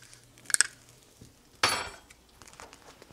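A metal spoon handle jabbing at clumped, additive-free Morton salt in a kitchen, heard as a few quick clinks followed by a sharper scraping crunch, fairly faint and with no talking.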